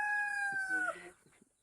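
A rooster's crow rises and trails off, followed by a few soft clucking sounds from nearby fowl.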